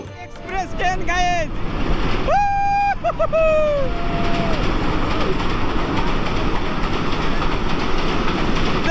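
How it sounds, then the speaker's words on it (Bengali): A train clatters past nearby across Chalan Beel wetland in a loud, continuous rush, with a few bright horn-like tones near the start and people talking underneath. "হঠাৎ দেখি পানির উপর দিয়ে ঝকঝকাঝক শব্দে ছুটে যাচ্ছে ট্রেন"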